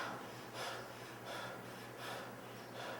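Rapid, heavy breathing during an anxiety-relief breathing exercise: steady, rhythmic gusts of in-and-out breath about every three-quarters of a second, close and fairly loud, over a low constant hum, with no talking.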